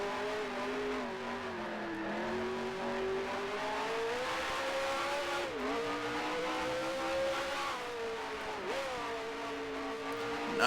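A race car in Grand Prix Legends held in a slide to warm its tires, the engine note rising and falling in long sweeping pitch curves with brief dips, loud and close with no voices.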